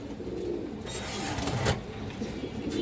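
A female pigeon coos nearby, with low throaty calls over a continuous background murmur and a brief louder rustle midway.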